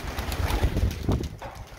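Pigeons coo softly in a backyard loft as they are let out for an afternoon flight, with low murmuring calls close by and faint rustling.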